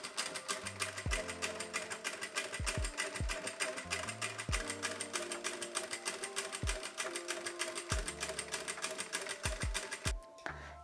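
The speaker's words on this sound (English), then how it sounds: "now I'm going to sew along the right side first, then turn it right side out and stitch again along the wrong side." A sewing machine stitches a seam on a front tie top, a fast even mechanical chatter in bursts with short pauses and low thumps between runs, close and clear with no talk.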